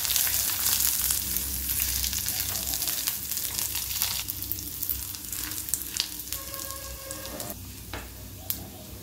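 Chopped garlic and red chillies fry in a pan with a steady, close sizzle and crackle, joined by a few scraping stir sounds toward the end, with no talking.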